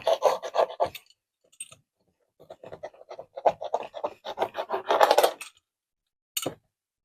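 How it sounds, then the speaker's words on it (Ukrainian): A roller presses a 4 mm neon LED strip into its channel along a corner, giving close, intermittent bursts of scraping and clicking with short pauses between strokes. "закатую валіком собі"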